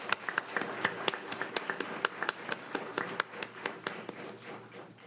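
Audience applause at a school board meeting, a moderate, fairly sparse round of clapping from a small crowd, steady for about five seconds in an indoor room.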